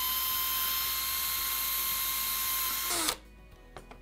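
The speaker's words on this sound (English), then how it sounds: "we'll just drill through both pieces of metal" A loud, steady high-pitched whine of a power drill grinding through two pieces of sheet metal for a homemade cookie cutter, stopping abruptly near the end, followed by a few faint clicks.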